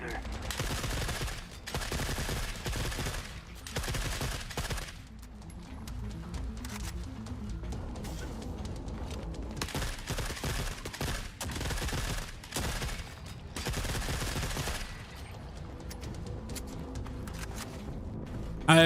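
Heavy gunfire in the shooter video game Forever Winter, with dense volleys and bursts of automatic fire that come and go in waves and fill almost the whole stretch, loud and close with brief lulls between them.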